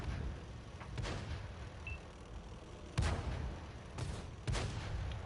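Tank cannon shots in a tank video game: three heavy, booming impacts spaced a second or more apart over a steady engine-like rumble, with softer thuds between them.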